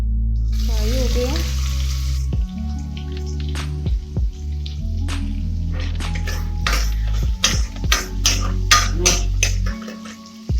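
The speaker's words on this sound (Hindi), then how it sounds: "जीरा अच्छे से फ्राई हो गया।" Cumin seeds frying in hot oil in a home kitchen while cooking dal bati, a steady close sizzle with clinks and stirring taps from a utensil scattered through, and no speech.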